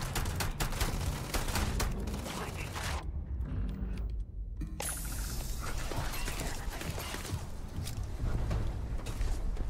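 Pistol shots fired in the sci-fi video game Starfield during a firefight, dense clattering mechanical bursts filling the foreground with a brief lull midway, a voice talking over the action.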